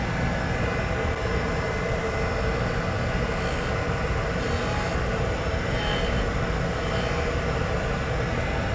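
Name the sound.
grinding wheel cleaning up a metal surface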